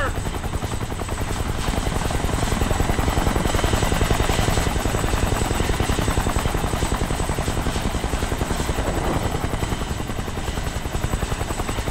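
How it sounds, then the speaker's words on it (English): Helicopter rotor chopping rapidly and continuously in the video game Kane & Lynch 2: Dog Days, a loud, close, sustained drone with even pulsing blades. "Chopper!"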